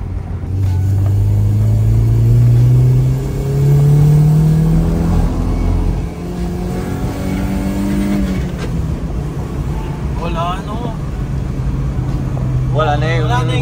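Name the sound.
car engine with chambered muffler exhaust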